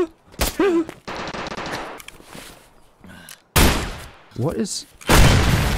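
Enemy gunfire in Escape from Tarkov cracks out in sharp, loud bursts separated by quieter gaps, with someone briefly speaking between shots.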